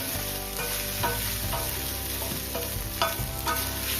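Sabudana khichdi stirred in a hot pan, repeated soft scrapes over a steady frying hiss, close and continuous with no one speaking.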